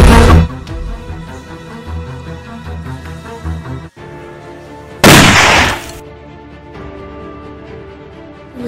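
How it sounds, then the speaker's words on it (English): Staccato gunfire effects in a LEGO stop-motion battle film, sharp shots over a rhythmic background score, followed by a loud burst of crackling noise lasting about a second. "there's a guy shooting at me"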